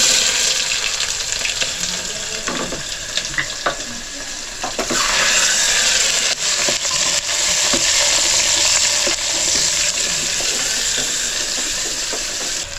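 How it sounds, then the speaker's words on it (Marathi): Chopped onion sizzles and fries with garlic and garam masala in a pressure cooker for mutton sukka, a steady close hiss with occasional stirring scrapes and clinks, growing louder midway. "आता याच्यामध्ये एक कांदा कापून असा चिरून टाकायचा."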